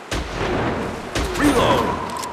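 Shotgun blasts from a pheasant-hunting video game, two sharp booming reports about a second apart, each with a brief decaying tail, loud and close, with game sound effects trailing after.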